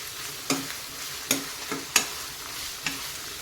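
Ginger garlic paste frying in oil for fried rice, a soft steady sizzle broken by several sharp scraping stirs of a spatula against the pan.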